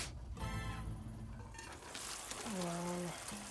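Red rice with mutton simmers and sizzles in a pot, giving a steady bubbling hiss with soft scraping of stirring, while a tonal voice-like sound rises briefly near the end.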